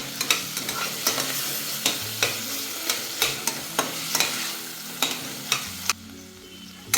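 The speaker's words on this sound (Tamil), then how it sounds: "இதுவும் நல்லா வதங்கட்டும்." A rice and lentil mixture with small onions sizzles in a pan while a spoon stirs it, giving regular scraping knocks over a steady fry.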